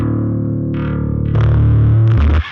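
A bass guitar runs through a Boss HM-2W distortion pedal, producing thick, buzzing chainsaw-like notes that sustain and shift pitch in a few steps before cutting off abruptly.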